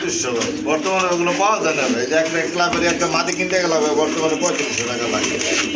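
Red Rajgolla pigeons and other fancy pigeons at a seller's loft, cooing steadily and close, mixed with other bird calls under continuous talking.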